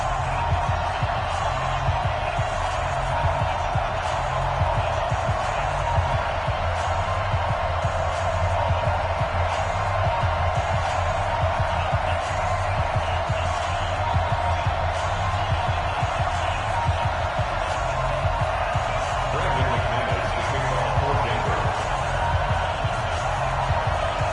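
Video game NFL stadium crowd before a home game against the Denver Broncos, with fireworks and pyrotechnics, a constant loud roar of cheering with a low rhythmic thumping underneath.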